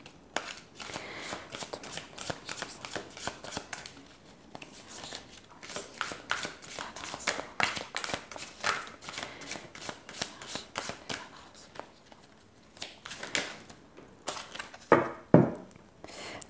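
Oracle cards are shuffled by hand in repeated quick riffling bursts, close and crisp, with brief pauses between rounds and a few soft taps near the end.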